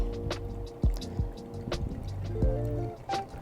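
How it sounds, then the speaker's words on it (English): Hot water pours onto ground coffee in a pour-over brewer for a second pour, a soft steady liquid trickle with a few light clinks and bumps, quiet and close with no talk. "My second pour up to 140 grams of water."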